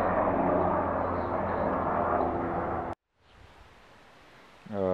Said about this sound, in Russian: Вертолеты полицейские летают.